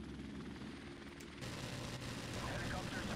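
Rotor noise from a friendly support helicopter arriving overhead in Call of Duty: Modern Warfare Remastered, a steady loud whir that swells partway through, joined by faint distant gunfire in the background.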